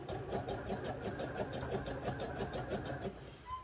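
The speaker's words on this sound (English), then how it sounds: "I'm going to top stitch it" A sewing machine top-stitches the seams of a pair of wrestling tights, its needle chattering in a fast, even rhythm at close range and fairly quiet, running steadily with a brief pause near the end.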